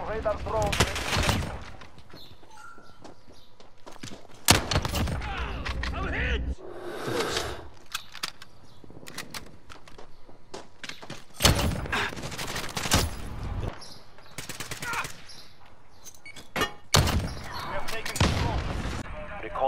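Gunfire in Call of Duty Modern Warfare multiplayer on PS4, with loud repeated bursts of automatic fire and single shots between quieter game ambience, as a player talks excitedly over it.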